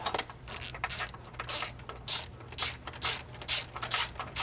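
A ratchet threads subframe bolts on a BMW E90 M3 during an engine mount job: close, uneven bursts of clicking and metallic scraping with short pauses between strokes.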